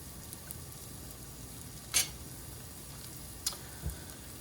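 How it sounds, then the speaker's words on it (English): Food sizzles quietly in a frying pan while a wooden spoon stirs, with a couple of sharp scrapes and clicks against the pan over a low, steady fry. "I'll just use the wooden spoon I used in the pasta. Stir this bad boy around."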